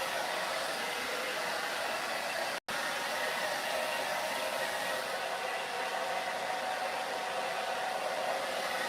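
Heat gun blowing steadily to dry milk paint on wood, a loud continuous roaring whoosh that cuts out for a split second and then resumes without any talking.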